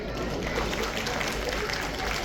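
Applause from the audience at a school annual function, a dense steady patter of many hands clapping at once, filling the hall at an even level throughout.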